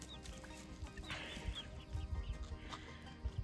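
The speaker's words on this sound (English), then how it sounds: "It is a barred rock with puffy cheeks." Barred Rock chicken with puffy cheeks clucking softly in a barn setting, low repeated murmuring clucks with faint background noise.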